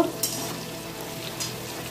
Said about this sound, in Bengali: আলুগুলো লাল লাল করে ভেজে নিয়ে আমি বন্ধুরা দেখো বন্ধুরা আমার আলু লাল লাল করে ভাজা হয়ে গেছে